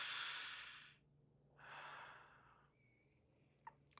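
Two long, loud breaths fill a quiet room, a deep inhale followed by a slow exhale during a guided relaxation, then faint soft sounds and small clicks close out the moment.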